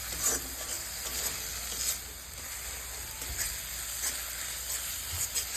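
Spices and green chili paste with Kashmiri red chili powder being sautéed in oil for a Bengali katla fish kalia, giving a soft continuous sizzle with occasional stirring scrapes, fairly quiet and without speech.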